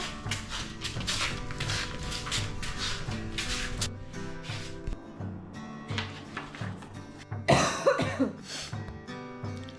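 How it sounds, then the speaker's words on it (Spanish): Several hoarse coughs and throat-clearing bursts close to the microphone, a longer loud coughing fit near the end. "Tengo que quitarme esta tos para la próxima semana."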